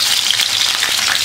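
Green chillies frying in hot oil in a kadai, with a loud, continuous crackling sizzle and spitting close by.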